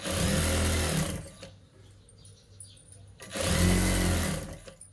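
A sewing machine stitches a gathered puff sleeve for a blouse in two loud, steady bursts close by, separated by a quieter pause of about two seconds in which the motor stops.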